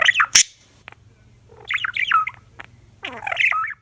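Bright, rolling budgie chirps and warbling trills come in bursts with short pauses between them, close and clear, with a faint low hum underneath.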